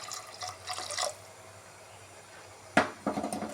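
Water pours into a pot in two short bursts, a splashy stream at the start, then a quieter pause, then another pour near the end.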